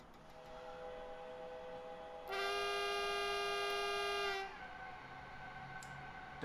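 A train horn in the Train Sim World game sounds one sustained, loud blast of about two seconds as the train departs Tutzing station on the Munich–Garmisch-Partenkirchen line, over a quiet rolling rumble.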